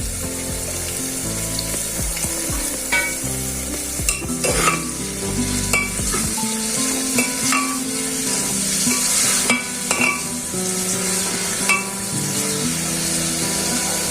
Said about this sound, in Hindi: इसको गोल्डन ब्राउन होने तक प्याज को भूनते हैं